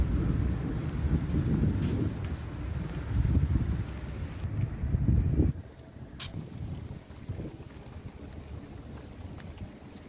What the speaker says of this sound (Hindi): बादल गरज रहे हैं माशाल्लाह से और बारिश अभी तक जारी है